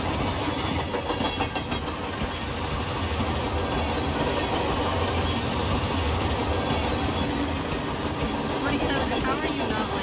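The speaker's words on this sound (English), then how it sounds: "Let's go on this train." A train rumbles steadily along the rails through snowy mountains, a constant close roar with faint rhythmic clatter throughout, a brief high squeal near the end.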